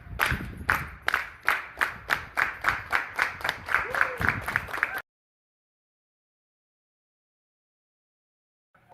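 A rally crowd at an Amazon Labor Union event claps in a regular, evenly spaced rhythm for about five seconds, a few voices audible under the beat, before it cuts to silence.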